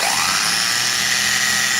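A Lacetti's repaired starter motor runs on without switching off, a loud, steady high-pitched electric whine with a rising tone at the start, close by and with no voices.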